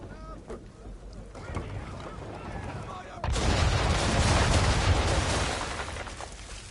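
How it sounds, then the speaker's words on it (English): A sailing warship fires a broadside from its cannons in Assassin's Creed 3; after a stretch of creaking, sea and voices, a loud, sustained roar of gunfire breaks in and rumbles on. "Bring around broadside, and when all guns are on target, call fire."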